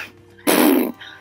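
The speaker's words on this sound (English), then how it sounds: "Just coughing." A single short, harsh cough burst up close, with quiet room noise before and after.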